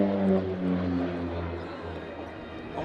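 An OV-10 Bronco twin-propeller aircraft drones overhead at an airshow in Biscarrosse, its tonal engine hum wavering in pitch as it manoeuvres, moderately distant and under faint crowd or commentary sound.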